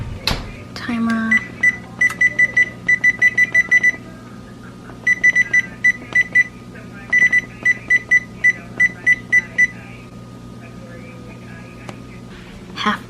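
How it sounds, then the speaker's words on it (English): A kitchen timer goes off during pumpkin pie cake baking, sounding repeated bursts of rapid high electronic beeps in a steady pattern, loud and close, with a brief pause midway before the beeping resumes. "Timer."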